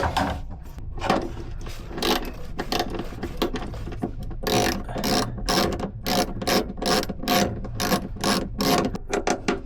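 A screw being driven and backed out of an aluminium boat deck, heard as close, rapid bursts of ratcheting clicks and grinding in uneven stop-start spurts, with no talk.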